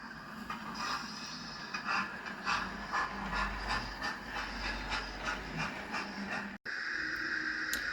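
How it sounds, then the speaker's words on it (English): A Hornby Coronation model steam locomotive fitted with an HM7000 sound decoder chuffs in a steady, even rhythm with a hissing steam wash, running past at moderate volume. "so you can really hear that chuff chuff noise as she goes past here on the inside the tunnel"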